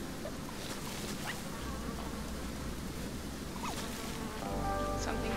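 A steady hum of flies buzzing fills the game Shelter, a soft continuous insect drone over a low ambient background with no voices.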